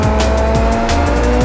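Race cars in the iRacing sim game roar loudly with constant engine drone, repeated tire squeal and pulsing shifts, no voices present.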